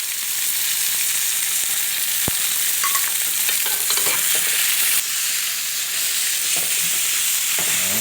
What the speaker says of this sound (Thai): ก็ใส่หมูสับลงไปนะครับ